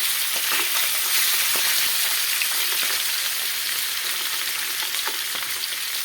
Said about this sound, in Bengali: মাছটা আমি হালকা ভাজাই করব